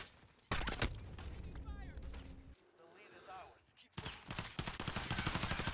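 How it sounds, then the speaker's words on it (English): Bursts of automatic gunfire in Modern Warfare crackle in rapid, loud volleys, pausing in the middle and resuming in heavy strings of shots, with a voice talking over parts of it. "Bro, there's no way this guy's shooting me."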